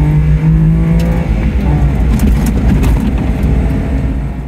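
A K-Car's 660 cc motorbike-like engine revs hard and loud in a close, continuous drone, with the pitch rising and falling slightly as it runs at full throttle on a racing circuit.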